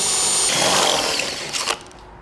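An electric drill fitted with a metal bit bores a hole in the frame of a terrace door: a loud, close, high whirring grind for about a second and a half that then cuts off.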